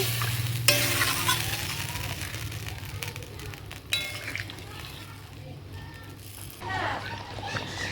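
Fish curry gravy with mustard-poppy paste, water and potatoes heats in a pan, giving a steady close sizzle and bubbling with occasional stirring and a light utensil clink.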